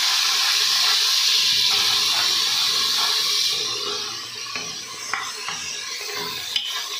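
Chopped tomato hits sautéed onions in a pan for dhaba-style chana dal. A loud, steady hissing sizzle fills the first half, then settles into quieter crackling with a few sharp scrapes of stirring.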